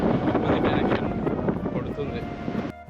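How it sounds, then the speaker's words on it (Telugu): Loud, roaring wind buffets the microphone in heavy gusts on a ship's deck, ending in an abrupt cutoff. "అసలు విండ్ స్పీడ్ రేంజ్లో ఉంది నేను మాట్లాడేది కూడా మీకు వినిపించట్లేదు"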